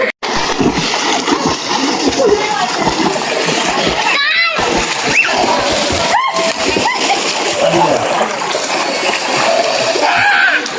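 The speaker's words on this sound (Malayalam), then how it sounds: "നീന്താൻ അറിയാത്ത ഒരാളുടെ നീന്തൽ." Water splashes and sloshes continuously in a resort swimming pool as someone who cannot swim thrashes about, loud and close, with voices, including a child's, talking and shouting over the splashing.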